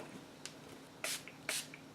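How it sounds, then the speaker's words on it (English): Crep Protect rain repellent is sprayed onto the bill of a New Era hat in two quick, close hisses, with faint handling noise around them. "I'm going to spray some on the bill just to see because it had all those yellow stains."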